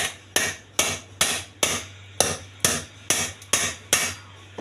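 Someone hammers the broken handle of an aluminium kadai with about eleven sharp, ringing metallic blows at a steady, unhurried rhythm, each strike close and loud, with a faint low hum underneath.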